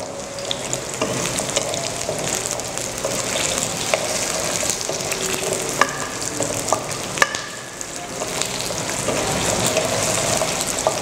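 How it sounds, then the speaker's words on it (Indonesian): Shallots and garlic are sautéed in a pan for a red Indonesian base spice paste, giving a close, continuous crackling sizzle. Frequent clicks and scrapes of a stirring utensil sound through it, with a brief dip partway through. "Ditumis terus secara merata supaya kematangannya juga merata."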